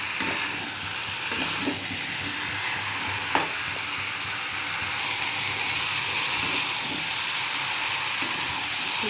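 Potatoes and pointed gourd sauté with spices in a pan, hissing and sizzling steadily at close range, with the occasional clink and scrape of stirring.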